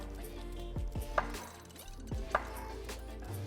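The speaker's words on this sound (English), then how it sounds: "The only thing we need to do to these is we're going to quarter them" A knife cuts potatoes into quarters on a board, giving a few soft, separate chopping knocks close by in a quiet kitchen.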